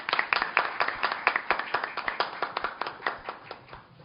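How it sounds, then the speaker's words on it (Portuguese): A small audience at an academic law and literature evening claps for a speaker, the individual handclaps distinct and fairly sparse, beating in a loose, uneven rhythm close by. "a quem peço também já antecipadamente aplausos pela sua participação"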